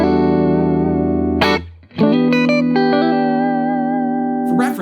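Clean electric guitar through a compressor pedal on a pedalboard, with even sustain and a soft squish on each note: a held chord, a brief gap, then new chords and single notes ringing out, loud and alone.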